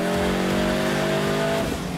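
A turbocharged Subaru Forester running flex-fuel E85 at 16 psi of boost roars at high revs during a dyno pull, a loud, steady engine drone that shifts in pitch near the end, with no talk.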